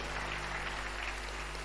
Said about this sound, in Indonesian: Tepuk tangannya balai meriah buat Tuhan.